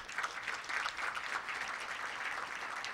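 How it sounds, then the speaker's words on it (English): An awards-ceremony audience claps steadily in a faint, continuous round of applause heard from some distance. "I ask you all to give yourselves a round of applause."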